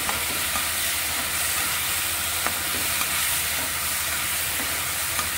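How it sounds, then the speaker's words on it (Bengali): Food sizzling in a hot pan with two chillies while being stirred, a loud continuous frying hiss with occasional soft scrapes of the spoon. "একটু নাড়িয়ে নেব।"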